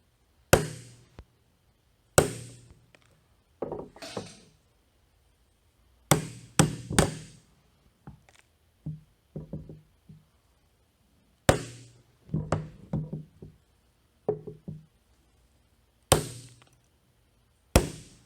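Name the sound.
tapping U-joint cap out of driveshaft yoke in vise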